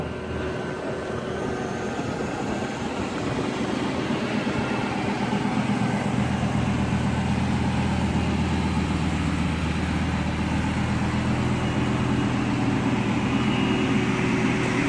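Lamborghini Gallardo with a freshly fitted new engine and new clutch idling steadily, a smooth continuous drone with a low hum that holds loud and close throughout.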